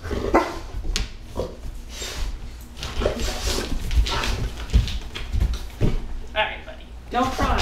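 A Weimaraner whimpers and whines in short, uneven bursts, close by, amid rustling and people talking nearby.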